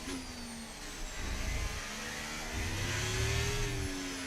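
In F1 25, a Formula 1 car with a failing, power-starved engine hums at a subdued, strained pitch that sags and then rises slightly. A low rumble builds beneath it and there are no voices.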